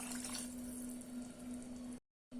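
Water poured from a measuring cup into a pressure cooker while making raw rice upma, a steady close splashing pour that runs continuously for about two seconds and then cuts off abruptly.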